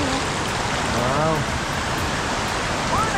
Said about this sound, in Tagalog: Ganda ng ilog.